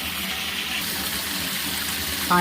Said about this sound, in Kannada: ಆ ಥರ ಈಗ ಪೂರ್ತಿ ಗಾಳಿ ಹೊರಗೆ ಹೋಗುತ್ತೆ, ಪರಪರ ಅನ್ನೋದು ಪೂರ್ತಿ ಹೊರಗೆ ಹೋಗ್ಬೇಕು